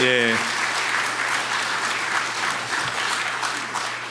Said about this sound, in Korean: 박수로 우리 격려하도록 하겠습니다